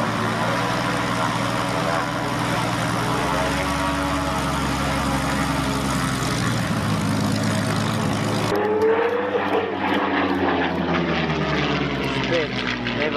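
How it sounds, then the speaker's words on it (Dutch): A vintage World War II propeller warplane roars at the Oostwold airshow, a loud harmonic engine drone whose pitch shifts as it passes close, with a voice speaking underneath. "Al die vliegtuigen uit die tijd, uit de Tweede Wereldoorlog"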